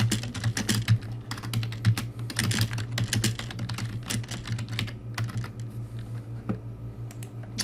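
Close, steady clatter of fingers typing on a computer keyboard, with bursts of keystrokes that thin out and soften toward the end.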